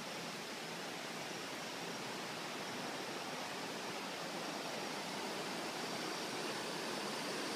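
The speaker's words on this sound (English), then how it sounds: "There's the river." The Ayung River in the Sayan jungle of Bali rushes steadily, a dense unbroken roar of flowing water that stays loud and even throughout, with no voices.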